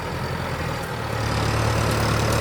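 A heavy tractor engine runs steadily with a deep, droning rumble, loud and close, without any voices, while clearing scrub and tilling a field.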